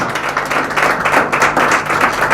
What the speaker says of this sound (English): Can we please give her a round of applause again, please?